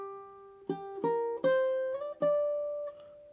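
A ukulele riff joining two parts into one phrase: several plucked notes overlap and ring into each other, then a final note sustains and fades, close and alone with no talk.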